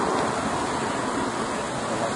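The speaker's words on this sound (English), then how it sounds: "There we go. The splash fountain." A splash fountain outside a football stadium on a Preston North End matchday gives off a steady, close rush of falling and spraying water, even and unbroken throughout.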